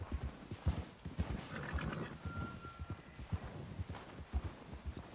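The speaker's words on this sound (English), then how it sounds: "Where are you going, horse?" Horse in the Red Dead video game clip-clopping along with uneven hoof beats and a brief whinny, fairly quiet and close, with no talk over it.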